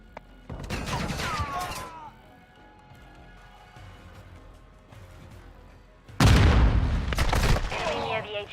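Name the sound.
stun grenade from video game Call of Duty: Modern Warfare II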